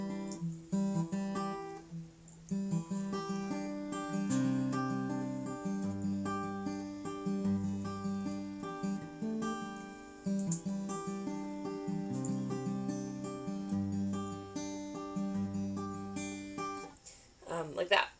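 Fingerpicked acoustic guitar intro plays alone: bass notes from the thumb alternate with plucked treble strings in a steady rolling pattern, close and moderately quiet, ending with a brief strum.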